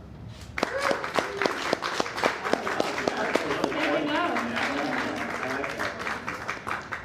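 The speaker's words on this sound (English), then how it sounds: "It's volume and aggression and length of applause" Audience applause and claps at a live comedy show, a steady crowd clapping with some sharp individual claps, sustained throughout while a host speaks over it.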